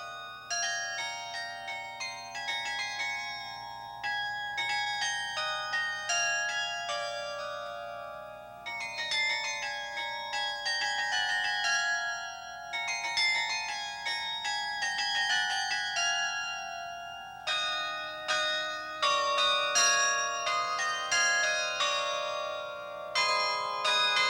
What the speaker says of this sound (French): Dans mes oreilles, fais tinter toutes les cloches de ton clocher.